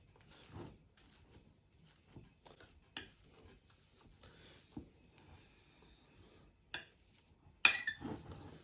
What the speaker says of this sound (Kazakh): Сондықтан осылай бірнеше рет еземіз қайта-қайта.